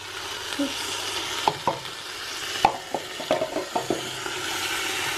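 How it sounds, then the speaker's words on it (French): Tomato paste being stirred into a couscous sauce on the heat, a spoon knocking and scraping the pot in irregular taps over a steady sizzle, close and clear. "Je remets sur le feu, je rajoute les tomates concentrées"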